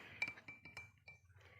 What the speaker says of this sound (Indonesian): masukkan telur ke dalam gelas yang berisi air tanpa campuran garam